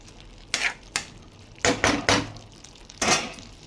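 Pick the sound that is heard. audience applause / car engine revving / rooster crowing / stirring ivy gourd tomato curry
stirring ivy gourd tomato curry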